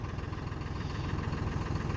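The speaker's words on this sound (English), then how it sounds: "So you mean I'm the one driving the tractor?" A tractor engine idles steadily and close by, a low rumbling throb with a faint vibration, heard alone without talk while a plow is being hooked up to prepare new garden ground.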